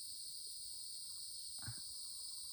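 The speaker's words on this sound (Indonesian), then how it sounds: "sambil menikmati suara-suara jangkrik." Crickets chirp on Mount Raung in Java, a steady, faint, high continuous trill that carries on alone with a soft brief rustle near the end.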